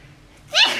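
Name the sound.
sneeze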